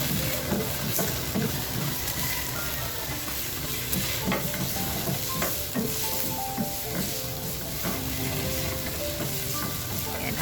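Onion and garlic sauté in a pan with a steady, dense sizzle close by, broken by occasional stirring clinks and scrapes, and no talking.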